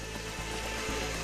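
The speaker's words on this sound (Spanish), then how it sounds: "La tensión se oye en las cuerdas y la madera." Ropes and timber of a Roman wooden pulley hoist strain and creak under the load of a stone block on an ancient construction site, a steady close grinding texture with faint periodic thumps, no voices.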